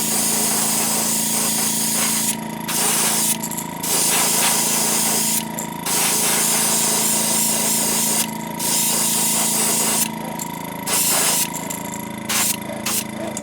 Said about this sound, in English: Createx Opaque White, and let's get down a base coat so we can get some colors here.